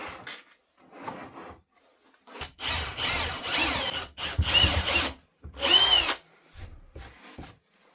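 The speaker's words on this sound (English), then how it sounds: "I might temporarily put a screw in just to" A power drill driving a screw into a scrap-wood stool, with short bursts of whirring and then longer loud grinding runs as the screw bites into the wood, close up, with brief pauses between bursts.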